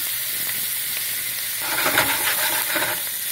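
Shrimp pan-searing in a hot pan with a homemade spice mix, a close, loud, steady sizzle that swells into a brighter, crackling hiss partway through, no talk.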